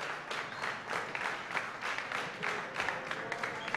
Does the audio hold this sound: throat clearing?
no